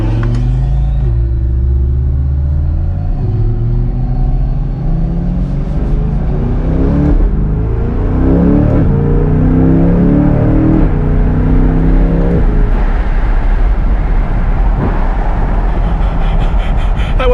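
A 2023 Chevrolet C8 Corvette accelerating hard, its engine revving up through rising pitch sweeps with gear changes, loud and close from inside the car, no talking.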